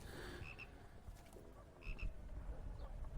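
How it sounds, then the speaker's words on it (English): Frogs croaking in Call of Duty Modern Warfare 2 Remastered, a few short paired chirps standing out over a low, steady night ambience, faint and somewhat distant. "No, but I can hear frogs."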